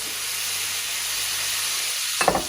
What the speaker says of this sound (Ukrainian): О, гарно пішла цибулька підсмажуватись.